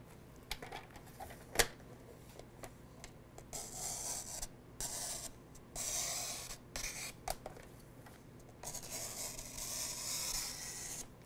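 A sheet of card is trimmed down to size with a paper trimmer or blade: soft scraping and rubbing strokes in short bursts, with a few sharp clicks, quiet and close, with no speech.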